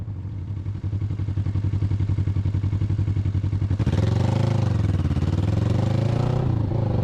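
Kawasaki Ninja 650R motorcycle engine under riding load, a steady throbbing drone that swells as it revs through the gears, loud and continuous with no talk.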